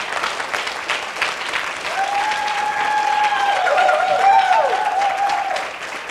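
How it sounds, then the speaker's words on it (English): Audience applause for a poetry group at a justice event, a loud sustained burst of many hands clapping lasting several seconds, with a whistle or cheer riding over it near the middle. "One more round of applause for Poets for Peace."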